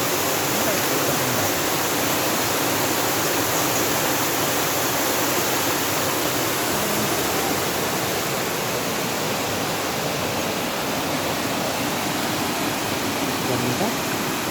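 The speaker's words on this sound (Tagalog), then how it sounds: "Galing talaga sa bundok ito na tubig." Mountain river water rushing in a strong, steady roar beneath the Tilafas bridge in hilly country, a loud broadband wash that holds unbroken and close throughout with no voices.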